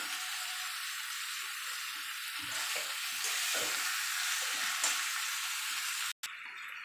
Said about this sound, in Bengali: কষিয়ে নেবো যাতে সব কিছুর মতো মশলাটা ঢুকে যেতে পারে